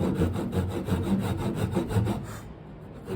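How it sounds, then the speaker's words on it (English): A hand saw cuts wood for a halving dovetail joint, its steady back-and-forth strokes rasping in a regular rhythm up close before stopping near the end. "start the saw"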